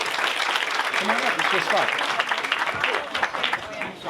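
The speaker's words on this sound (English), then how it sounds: "Big round of applause, please, for Cheyenne." An audience cheers and applauds for the national anthem singer at a Boys & Girls Club capital campaign event, a dense wash of clapping with voices talking and calling out over it.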